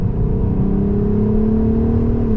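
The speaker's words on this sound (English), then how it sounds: "this Scorpion exhaust" Volkswagen Golf R32 fitted with a Scorpion exhaust revs up close, its deep engine note climbing steadily and loud throughout, with no talking.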